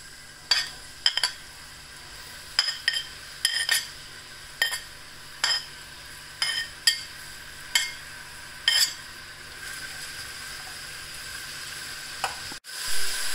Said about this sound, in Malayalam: അതിനുശേഷം ഇനി നമുക്ക് സവോള വഴറ്റാം.